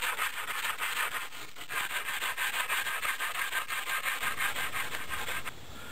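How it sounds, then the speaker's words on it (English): A wooden kannai, a primitive Tasmanian weapon, is rubbed on sandstone with loose sand in rhythmic back-and-forth strokes, a close, steady gritty scraping that runs for several seconds before briefly easing. "just sanding on this piece of sandstone with some other sand"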